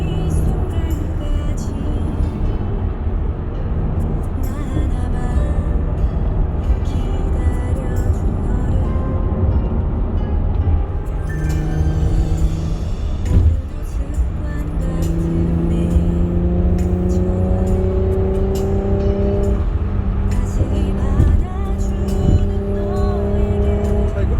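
A loud, deep exhaust from a Hyundai Genesis Coupe's 3.8-litre Lambda V6 with manual gearbox drones continuously, building with revs and rising in pitch as the car accelerates, with a rough throaty rumble underneath.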